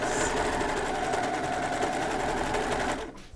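Serger overlock machine stitching a flatlock seam on fabric, a fast, steady mechanical whir with dense rapid needle rhythm, loud and close, running continuously before stopping abruptly at the end.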